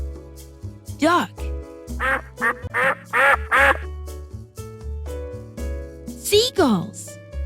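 A duck quacks in a rapid series of nasal calls, a first quack then a burst of four quick ones and a final louder call, layered over light background music.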